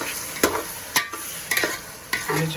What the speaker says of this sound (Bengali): টমেটো দিয়ে দিচ্ছি হুম টমেটো দিয়ে দিচ্ছি